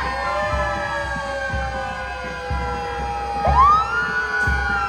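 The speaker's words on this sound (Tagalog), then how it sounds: "We have our ambulance, our fire trucks." Ambulance and fire truck sirens wail together at a civic military parade for Philippine Independence Day in Bacolod, with several overlapping tones close by and loud. A rising siren whoop cuts in near the end, and a steady rumble sits underneath.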